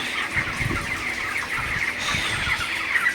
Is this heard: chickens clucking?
yes